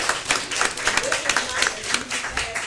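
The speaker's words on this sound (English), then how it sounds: "let's give all of them a round of applause" A round of applause from the audience at a city commission meeting, a dense, uneven patter of many hands clapping at moderate loudness throughout.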